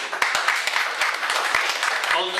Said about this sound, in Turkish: Alkışlıyoruz. Bravo.